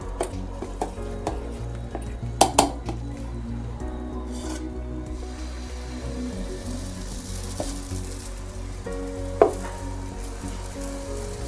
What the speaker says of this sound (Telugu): ఇప్పుడు మనం దోశ వేసేసుకుందాం సగ్గు బియ్యం దోశ వేసుకుందాం